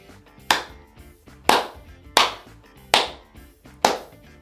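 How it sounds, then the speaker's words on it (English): Five sharp hand claps land one at a time at an uneven pace, loud and close, each with a short ringing decay and nothing else heard between them. "I forgot how many times I clapped."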